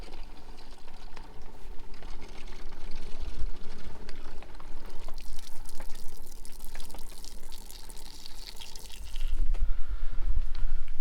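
Steady rushing water pours and splashes continuously from a portable reverse-osmosis filtration unit, with a broad hiss that grows louder and heavier toward the end.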